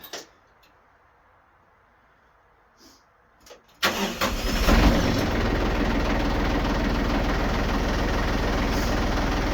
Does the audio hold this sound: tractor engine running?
yes